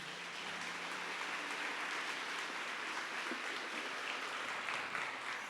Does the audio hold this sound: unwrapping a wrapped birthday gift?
no